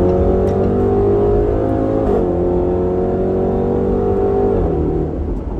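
2020 Range Rover Velar SVAutobiography V8 revving hard while driving, a loud, close, continuous engine roar with gear-change steps as the pitch climbs and drops, heard alone without talk.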